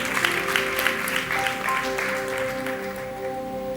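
An audience claps during a church sermon, a steady burst of applause that gradually fades over several seconds.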